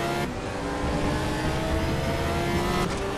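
Porsche 911 GT3 race car engine in the video game RaceRoom at Silverstone GP, a loud, sustained high-revving drone with steady harmonic whine and slight pitch shifts as it holds speed.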